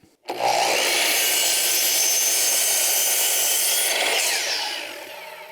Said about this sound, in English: I love using this saw.